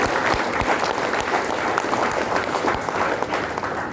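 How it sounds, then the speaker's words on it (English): A crowd at a leaders' congress claps warmly for their organization, a thick continuous wash of many hands with a few sharper individual claps standing out, sustained evenly from start to finish. "Why don't you give your organization a round of applause?"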